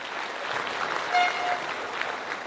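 Audience applauding at a motivational seminar, a dense, steady wash of clapping from a crowd that swells slightly midway through and continues for a couple of seconds.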